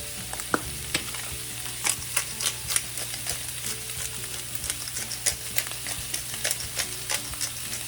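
Food sautés in a pan seasoned with Himalayan salt and pepper, a soft continuous sizzle broken by repeated light clicks and scrapes of stirring, fairly quiet and close.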